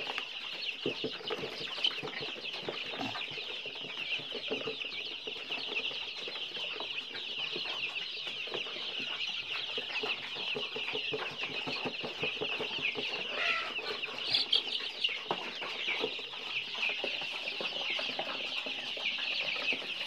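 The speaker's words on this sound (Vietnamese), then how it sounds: "Gà rất xinh, rất khỏe, rất mạnh đấy mọi người." Free-range crossbred fighting chickens cluck and chatter continuously at a farm, a steady flock murmur with occasional louder clucks and a brief wing flap, no talking over it.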